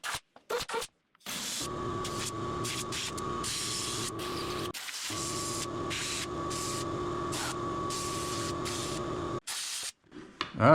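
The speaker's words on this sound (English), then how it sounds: "use air, compressed air, to see if I can just get it to pop off on its own." Compressed air blows in repeated bursts against a fiberglass cowl on an RC plane build. Several short blasts come first, then a long sustained hiss broken by a brief pause, then a final short burst.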